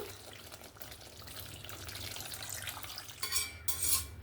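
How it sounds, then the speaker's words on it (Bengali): Water being stirred into a simmering fish gravy for katla rezala, a soft wet swishing and bubbling close by, ending in a couple of louder scraping clatters of the spoon against the pot. "জলটা দিয়ে ভালো করে মিক্স করে নিলাম"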